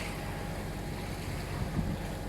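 Steady, continuous hum of a sailboat's engine motoring in calm conditions off Fréjus, mixed with wind rush on the microphone and water noise, loud and unbroken throughout.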